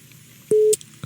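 A single short telephone tone sounds as a call comes in on a live radio broadcast, one clear flat beep lasting about a quarter second against quiet background hiss.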